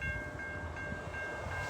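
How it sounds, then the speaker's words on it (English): A southbound Amtrak passenger train rolls past close by, a brief loud rumble with a steady tonal ring over it and faint rhythmic clatter, alone with no voices. "Here comes a train."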